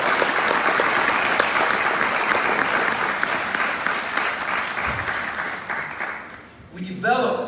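Loud, sustained audience applause at a Dealshaker expo in Paris, a thick roar of clapping that tapers off before a voice begins speaking at the very end.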